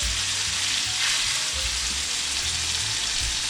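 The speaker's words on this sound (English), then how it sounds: "big sizzle." Chicken thighs and vegetables frying in hot avocado oil, giving a loud, steady sizzle with crackling spatter and occasional stirring, no voices over it.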